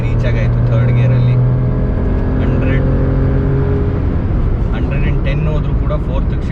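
A Maruti Suzuki Alto K10 AMT accelerates at full throttle, its small engine droning loudly with a rising tone from inside the cabin, under steady road rumble as someone talks over it.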